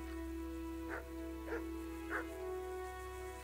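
A dog barks three times at a steady pace in the medieval role-playing game Kingdom Come Deliverance, each bark fairly close and clear over a constant low background hum.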